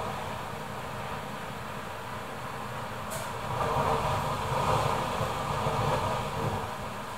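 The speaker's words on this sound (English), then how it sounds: "you can really hear the wind." Typhoon Hagibis wind roars outside a small toilet room, a steady broadband rush that swells louder halfway through, with a brief higher whoosh as a gust hits.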